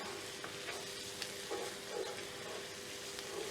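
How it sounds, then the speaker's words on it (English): Tomato paste toasting and being stirred into a Greek meat sauce, a steady soft sizzle with occasional scraping stirs of the spoon in the pan, close and fairly quiet, with no talking. "We want to toast the tomato paste a little bit, because that releases a lot of deep flavor for our sauce."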